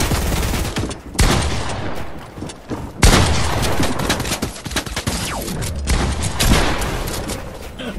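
Rapid gunfire from a suppressed pistol in Fortnite rattles nearly nonstop, in dense repeated volleys with brief pauses and a few heavier booms mixed in, loud and close.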